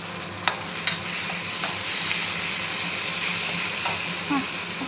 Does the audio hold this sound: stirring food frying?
yes